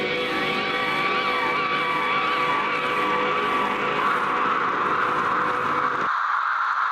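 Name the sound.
squirrel sound processed into a blood-curdling scream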